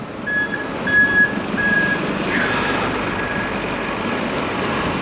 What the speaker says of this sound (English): Just put my indicator on to turn left.